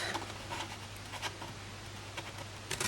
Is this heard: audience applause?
no